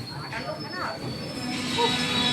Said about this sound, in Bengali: চলো ট্রেন আসে